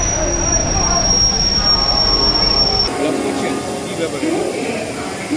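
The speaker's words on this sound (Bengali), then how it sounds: "ট্রেন ঢুকছে আমাদের ন নম্বর প্ল্যাটফর্মে সরাইঘাট এক্সপ্রেস" The Saraighat Express rolls into platform nine at a station, a loud rumble of wheels and carriages with a high, sustained squeal that cuts off partway, while a voice talks over it.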